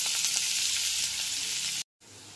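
Ginger garlic paste with chopped carrot fries on a low flame, giving a steady, close hiss of sizzling oil that cuts off abruptly near the end.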